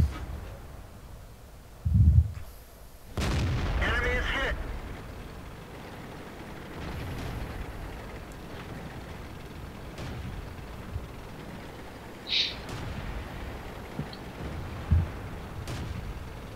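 Tank cannon fire in World of Tanks from a heavy tank battle: a deep single boom followed by a larger blast with a rumbling tail, then scattered fainter distant shots over steady battlefield ambience.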